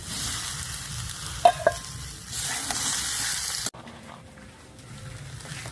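Vegetables fry and are stirred in a pan with lentils and rice, a steady close sizzle marked by a couple of sharp utensil knocks, dropping abruptly to a quieter simmer near the end.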